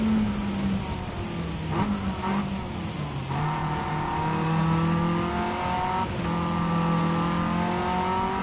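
A race car engine in Gran Turismo 7 revs and shifts through the gears while climbing in pitch, steady and prominent, with brief tire squeals and no talking.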